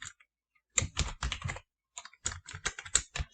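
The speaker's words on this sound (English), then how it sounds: "We're going to type in that note." Keys on a computer keyboard typed in quick close bursts of crisp clicks, with short pauses between runs, heard alone and fairly quiet.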